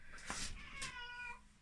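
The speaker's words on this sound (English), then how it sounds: "This cat." A cat meows twice close by, a drawn-out first cry followed by a shorter second one, against a quiet room background.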